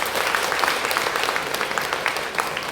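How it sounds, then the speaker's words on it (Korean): Audience applause at a Korean humanities lecture on the climate crisis, a dense, even wash of many hands clapping that fills the short stretch without pause. "큰 박수로 한번"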